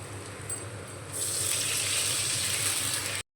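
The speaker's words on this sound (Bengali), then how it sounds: "এবার দিয়ে দেব জল।" Water pours in a steady gush into a curry pot of potatoes, starting softly then swelling to a full, continuous rush before cutting off abruptly.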